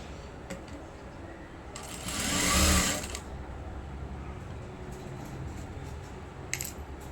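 A sewing machine stitches the back piece of a blouse, running in short bursts with one louder, faster run in the middle, close by with light handling noises between.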